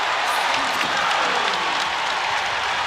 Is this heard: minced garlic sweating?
no